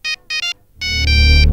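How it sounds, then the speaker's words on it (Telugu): A phone ringtone in a Telugu film scene: two short electronic tone bursts, then a louder sustained melodic ringing with a low rumble beneath, close and clear with no talk. "అక్క, నవీన్ ఫోన్."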